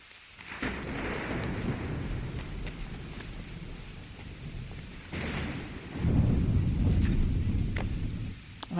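Steady rain hisses throughout in Assassin's Creed III Remastered, with low rolling thunder rumbling beneath and a louder surge of rumble and downpour toward the end.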